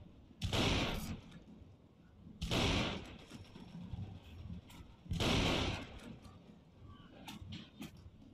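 Explosions in the mobile World War II game World War Heroes: three loud, booming blasts about two seconds apart, each with a heavy low rumble, followed by fainter scattered gunfire cracks near the end.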